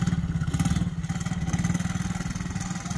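Small quad ATV engine running steadily as a three-year-old drives it slowly around a yard with his mother aboard, a near, continuous low throbbing hum with slight rhythmic pulsing throughout.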